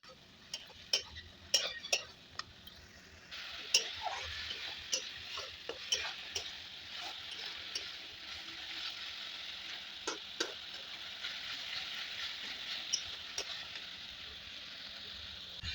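Masala seasoned with salt and turmeric, cooked down for chicken curry, sizzles steadily in a pan while a spoon scrapes and taps through it in irregular clicks, moderately close, with no talking.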